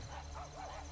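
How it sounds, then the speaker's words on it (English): Dogs barking at a puppy mill, short yips and barks sounding at a distance over a steady background hum. "You can hear him barking. You can hear dogs,"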